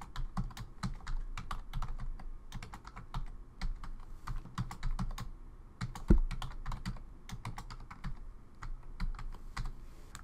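A username and password are tapped out on a computer keyboard in quick, irregular bursts of crisp clicks, close by and with no talking.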